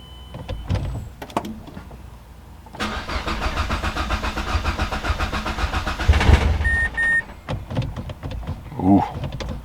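A Mazdaspeed 3 fuel pump primes with a steady buzzing whir lasting several seconds inside the car, amid clicks and handling noises, with faint chimes near the end.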